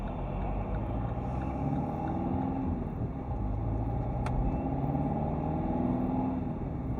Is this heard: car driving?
yes